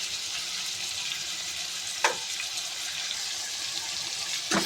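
Moringa chicken curry sizzles steadily in a pan after salt is added, a dense hiss with a brief clatter of stirring midway and another near the end, close and continuous.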